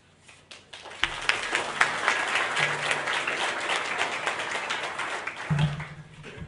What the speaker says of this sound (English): Shouldn't clap before I speak.